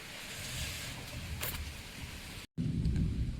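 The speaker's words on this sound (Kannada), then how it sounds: "ತುಂಬ ಜೋರಾಗಿ ಗುಡುಗು ಬರ್ತಾ ಉಂಟು ಗೈಸ್" Thunder rolls as a low, steady rumble over breezy outdoor air at the start of a light rain, with a short dropout before the rumble swells again, fairly faint overall.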